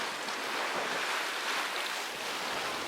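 Sea waves wash in at Paignton seafront with the tide in, a continuous broad roar of surf mixed with wind buffeting the microphone, steady and fairly close, no talk.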